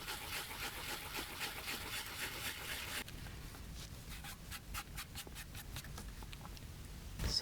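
A sponge rubbing wet paper off an inkjet transfer on a wooden DIY sign, soft close scrubbing and scratchy rubbing strokes in quick repeated bursts, fairly quiet.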